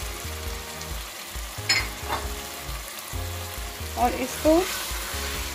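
Pieces of shredded chicken going into a hot pan for chicken daleem sizzle and fry steadily at close range, with a few clatters of stirring; someone speaks briefly over the cooking.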